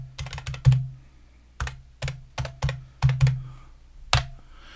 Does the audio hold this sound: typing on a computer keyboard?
yes